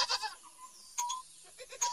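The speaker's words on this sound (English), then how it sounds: "And who is under the giraffe? It's a goat." Cartoon goat bleating in a children's alphabet song, a few short wavering bleats with brief pauses between them, clear and close with no talk.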